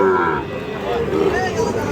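Sahiwal-breed bull calves at a busy cattle market moo in long, low drawn-out calls, with several animals overlapping close by amid general background noise.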